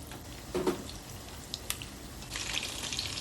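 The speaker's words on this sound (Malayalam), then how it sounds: "നല്ല എണ്ണ ചൂടാകുമ്പം നല്ല ഫ്രൈ ചെയ്തിട്ട് എടുക്കുക" Chicken pieces frying in hot oil for restaurant-style chilli chicken, a steady soft sizzle with faint crackles and a few brief pops, close and fairly quiet throughout.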